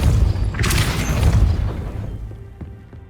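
The Depulso force spell cast in Hogwarts Legacy, a deep booming blast that swells and rumbles for about a second and a half, then decays into a thin tail with a few faint clicks.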